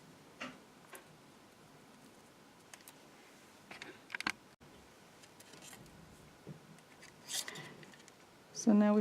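Scissors snip card around a 3D decoupage wing in a quiet room, leaving a few faint, sparse clicks and cuts with soft talking between them.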